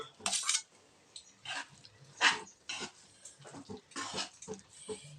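Vangi bath, a rice dish with mixed vegetables, being stirred in a pan, with a spoon scraping and clinking in irregular close bursts separated by short quiet gaps.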